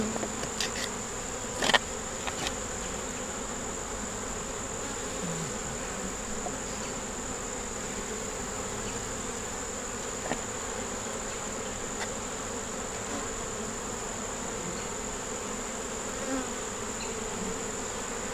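Honey bees hum steadily and continuously around an open hive, a close and constant buzz with a few faint clicks and taps from handling.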